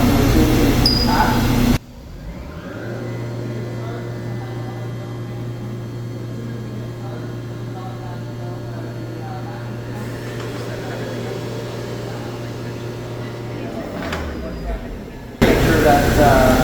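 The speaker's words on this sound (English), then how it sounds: "We're going to use a spindle to drill the holes." A CNC router's spindle drilling holes, a steady mechanical drone with a constant low hum that runs for about twelve seconds and then winds down, set between louder stretches of machine noise at the start and end.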